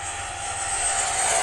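A Freewing Zeus 90mm electric ducted-fan sport jet, an RC model, roars past at full throttle with a steady, loud, high-pitched whine that swells slightly as it approaches.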